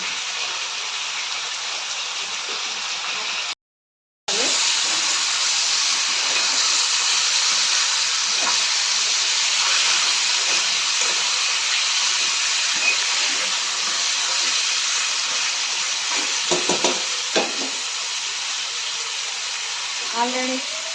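Chicken sizzling in a pan with ginger paste, a steady loud frying hiss with scattered crackles and pops, a brief cut in the middle, and faint talk.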